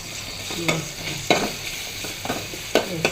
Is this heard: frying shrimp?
yes